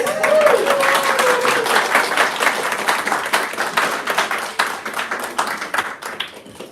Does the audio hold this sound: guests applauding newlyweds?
yes